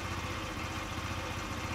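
Honda Dio scooter engine running with a carburetor fault, giving a steady, loud, even idle with no breaks and no talking.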